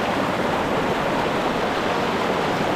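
Fast-flowing mountain river in the Altai, its water rushing loudly and steadily at close range as a dense, unbroken roar with no voices.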